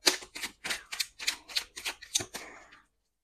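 A deck of cards is shuffled in about nine quick riffled bursts over a little under three seconds, each a crisp close flutter, with silence at the end.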